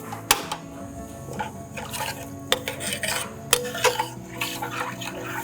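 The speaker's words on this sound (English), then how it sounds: "We're gonna give this a good little stir again, and then we're gonna add the cheese." Mac and cheese being stirred in a large skillet, with scraping clinks and soft wet stirring at a steady pace, recorded close and fairly quiet.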